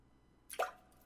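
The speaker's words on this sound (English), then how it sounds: "that's definitely the sound of a drop. Drip, drip. The sound of falling drops." A single water drop lands with a sharp, bright plop close by, followed by a short fading ring in an otherwise quiet space.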